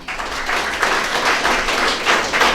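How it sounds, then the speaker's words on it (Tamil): A crowd at a Tamil festival event claps for the organizing committee, a steady wash of applause held at an even, fairly loud level for the whole stretch. "அந்த விழா குழுவினருக்கு ஒரு கைதட்டல் கொடுங்க"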